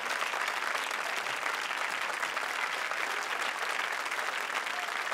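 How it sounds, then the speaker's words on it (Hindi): Studio audience applause on the Comedy Circus S2 comedy show, a dense, steady wash of many hands clapping at constant loudness with no voices over it. "जोरदार तालियां"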